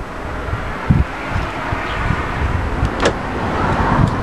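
Interior of a moving car on a ride, a steady broadband road and wind rumble with a few soft thumps and clicks, no talking.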